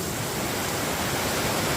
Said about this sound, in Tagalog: aligasgas ng tubig